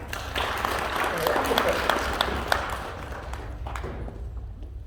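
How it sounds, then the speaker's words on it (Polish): Classmates and families applaud a new pupil at a Polish school induction ceremony, steady clapping from a room full of people with a few sharp individual claps standing out, tapering off at the end. "Duże brawa dla Majki."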